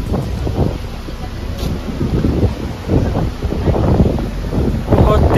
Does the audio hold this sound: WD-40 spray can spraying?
no